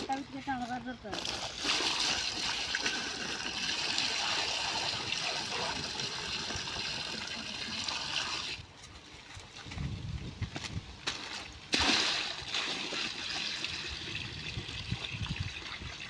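Water splashes and sloshes as it is poured, a steady wet rush that pauses briefly, with people talking throughout.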